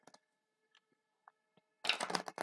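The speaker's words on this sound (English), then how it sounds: "One more shuffle." An oracle card deck being shuffled by hand: a few faint ticks and taps, then a brief, close burst of riffling, flapping cards near the end.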